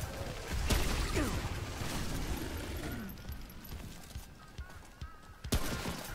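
Enemies explode during gameplay in Remnant: From the Ashes amid rapid gunfire, with loud crashing bursts and booms spread across the fight and a sharp blast near the end.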